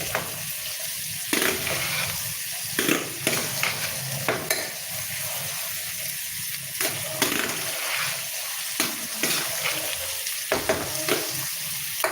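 Sliced onions fry and sizzle in a pan for tamarind rice while a spoon stirs and scrapes repeatedly against the metal, making irregular clatters over a constant close sizzle.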